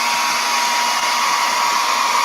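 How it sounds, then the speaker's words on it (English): A small hair dryer drying water-based paint blows a steady, loud, unbroken hiss with a faint motor whine, running alone without talk. "I'm going to take a little hair dryer to them."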